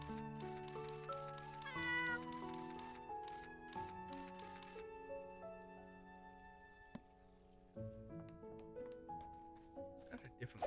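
A cat in a video game meows in a few short, tonal cries over layered game music that carries steadily throughout.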